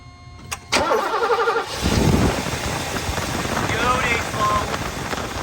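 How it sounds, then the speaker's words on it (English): A 1989 Mercedes-Benz 560SL with a newly replaced cold start injector cranks briefly, then fires and settles into a loud, close, rumbling idle with a faint whistle above it. "start it up for me real quick"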